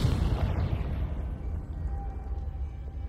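A Confringo fire spell in Hogwarts Legacy bursts into a deep booming explosion that opens loud and then rumbles and fades over a few seconds, with no voices over it.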